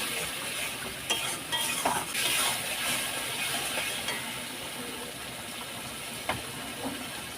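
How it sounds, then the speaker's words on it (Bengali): Mustard hilsa fish masala with mustard oil sautés in a pan, a soft continuous sizzle and hiss broken by a few scraping stirs of a spatula, fairly quiet and without talk. "দু মিনিট কষিয়ে নিয়েছি"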